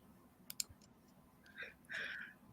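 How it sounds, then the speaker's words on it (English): Sparse keyboard clicks picked up over a video call, a couple of sharp taps followed by softer bursts of clicking, faint and close against a quiet background. "They're typing. You guys are hearing that, right?"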